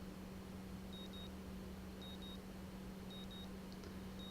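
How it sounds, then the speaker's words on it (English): A faint alarm in the video game Katawa Shoujo sounds in paired high beeps repeating about once a second over a low steady hum, quiet and thin. "The sound of an alarm pulls me out of a fitful slumber and into the unpleasant state of wakefulness."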